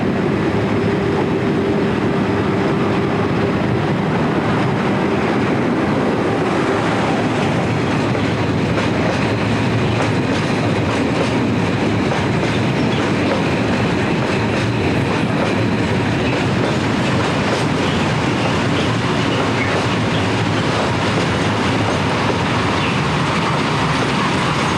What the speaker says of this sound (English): the locomotive shunts the wagons into the nearby yard